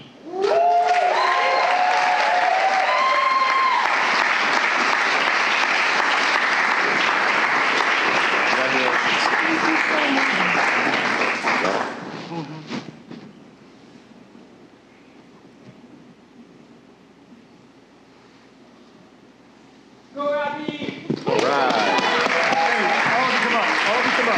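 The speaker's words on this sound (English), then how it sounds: "One more round of applause." Audience applause at a pitch competition final as the winner is announced, dense and loud clapping for about twelve seconds that fades out, then a quieter gap before a second burst of clapping starts up.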